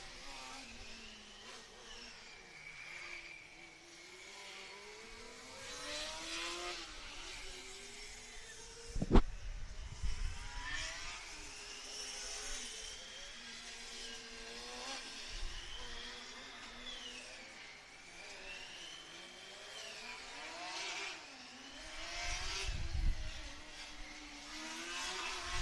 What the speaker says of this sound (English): the car from Transylvania sounds so great